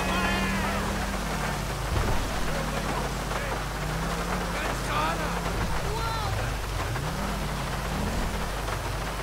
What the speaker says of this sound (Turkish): bu kadar yağmur yağacak, ne var oyun?